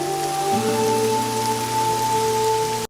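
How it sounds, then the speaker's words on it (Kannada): Monsoon rain falls steadily on the road to Hassan, a dense continuous hiss of drops with faint steady tonal hums underneath, cut off abruptly at the end. "ಮಳೆ ಶುರುವಾಯ್ತು."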